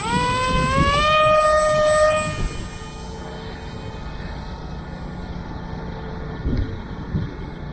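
A tiny LDARC Tiny Wing FPV plane's electric motor whines loudly at launch with a rising tone, then quickly fades as the plane flies away into the wind, leaving faint distant buzzing and wind noise.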